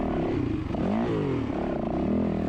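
Dirt bike engine revving and surging through a run of whoops on a Penrose sprint enduro test, close and steady with rising and falling pitch as the throttle opens and closes.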